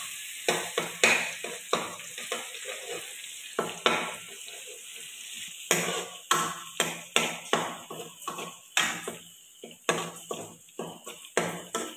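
Eggs fry with garlic in a pan, a steady hiss and sizzle broken by repeated scraping and stirring strokes of a utensil against the pan, close by.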